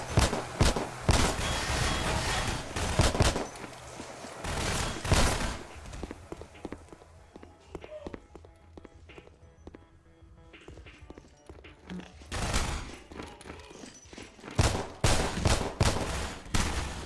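Gunfire in the Hunt Down the Freeman shooter game, with a pistol in use: loud sharp shots in clusters at the start and again near the end, separated by a quieter stretch of scattered clatter and footstep-like thuds.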